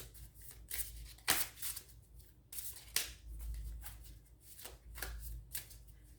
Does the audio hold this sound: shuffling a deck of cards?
yes